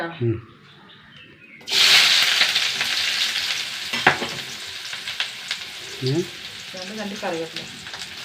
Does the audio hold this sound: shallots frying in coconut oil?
yes